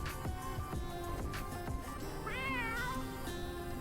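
A cat meows in Walkabout Mini Golf's Laser Lair course, featuring Exploding Kittens, as the Electro Cat card is found. A single rising-falling meow sits midway over busy game music and ambience.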